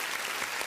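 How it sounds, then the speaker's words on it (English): A brief, steady wash of applause-like clapping during a podcast episode, continuous and even in level for under a second with no voices. "let me just give you guys a little applause on that"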